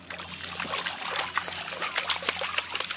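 Fish are released from a bucket into pond water, making a run of close splashes and sloshing dribbles of water with no talk.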